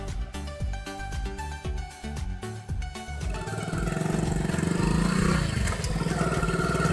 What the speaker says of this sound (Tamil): அது ஏதோ ஒரு வண்டி வருது.